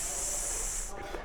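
Carbon dioxide fizzes inside a wine barrel during malolactic fermentation, a close, continuous fine hiss that drops out near the end to a softer rustle.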